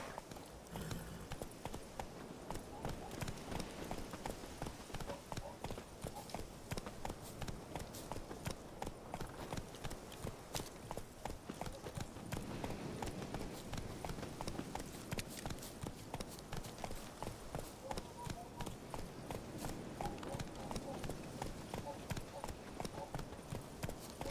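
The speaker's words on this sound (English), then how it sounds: "Giddy up. Take it easy." Horse hooves clip-clop steadily at a gallop and trot in The Witcher 3, a continuous rhythmic thudding that runs throughout under faint game background sound.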